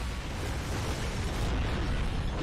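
A mortar explosion in the video game Gears of War 2 roars as a loud, dense, sustained blast of noise that fills the whole moment without letting up.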